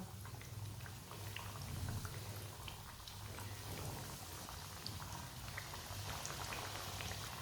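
Potato samosas deep-fry in hot oil, giving a steady, close crackle and sizzle with scattered pops and bubbling over a low background hum, with no one talking.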